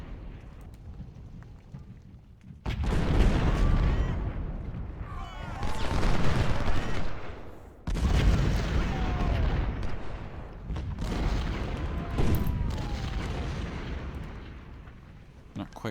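Civil War 12-pounder cannons boom in Ultimate General: Civil War, several heavy, rumbling artillery volleys that come in separate bursts of a few seconds each, loud and close, with no speech.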